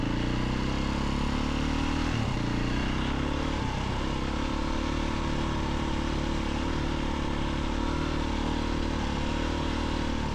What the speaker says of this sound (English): I really enjoy riding this bike, being a 4-stroke compared to 2-stroke